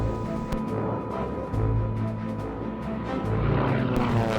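Propeller-driven World War II scout planes from the carrier Enterprise fly during the Battle of Midway, a loud steady engine drone with a dense rumbling roar that holds throughout without a break, with no voices over it.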